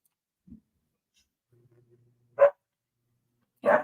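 A dog barks twice in a quiet room, short loud barks spaced about a second apart, with a brief faint yip and low murmur before them.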